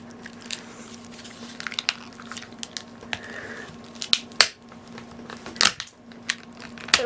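Someone pries a plastic part off a keyboard by hand, producing irregular close clicks, snaps and crackles with a few sharper cracks over quiet handling.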